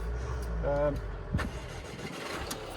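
A 2016 Mercedes A180d Sport Executive diesel with 46,000 miles is started, with a brief cranking whir, then a sharp catch into a low idle rumble, heard up close.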